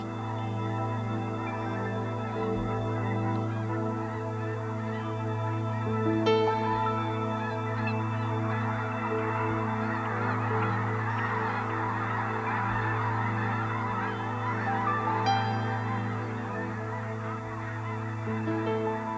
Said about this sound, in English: These young snow geese were hatched this year in the Arctic.